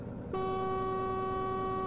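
A truck's air horn sounds in the Truck Simulator Ultimate game, opening after a short stretch of engine rumble into a loud, steady, sustained tonal blast that holds unbroken to the end.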